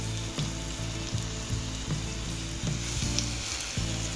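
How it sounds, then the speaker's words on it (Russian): Chicken rolls stuffed with cottage cheese and garlic sizzle and fry in a hot pan, a steady crackling hiss with soft periodic bumps, close and continuous with no talking. "Выкладываем наши рулетики на сковородку."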